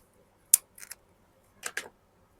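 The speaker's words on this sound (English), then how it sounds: "I might cut off these little bits hanging off my knot here." Scissors snip through the loose ends of bundled, knotted rosemary stems: one sharp, crisp cut, then two quick pairs of softer snips, close and clear in a quiet room.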